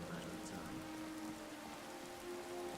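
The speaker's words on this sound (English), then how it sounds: "just as it starts to rain" Steady rain falls throughout in the Skyrim VR game, a dense, even hiss of drops hitting surfaces with no breaks and no voices.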